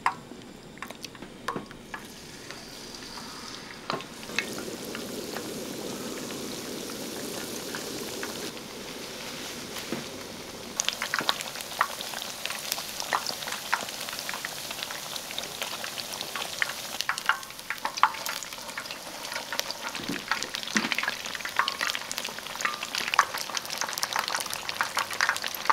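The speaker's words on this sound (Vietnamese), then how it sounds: "mình tiếp tục chiên mặt còn lại cho cá chín vàng đều hai mặt là được" Fish frying in a pan, second side browning, with steady sizzling and bubbling oil throughout, growing busier with crackles and pops in the latter half; no voices.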